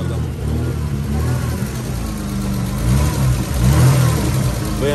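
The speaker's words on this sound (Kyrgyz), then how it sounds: "BMW-нын мотору экен." BMW E34 engine revving at a busy bazaar, a mid-pitched motor idling then rising in repeated throttle blips, close and loud, with people talking nearby over it.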